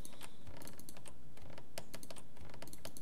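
Keystrokes on a computer keyboard during modelling work in Maya 2018 come as quick irregular bursts of close, crisp clicks with no talk.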